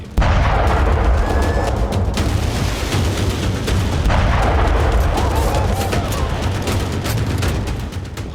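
Repeated loud explosions and sharp bursts go off in quick succession during the Wagner Group mutiny in Russia, thundering continuously over a dense roaring background.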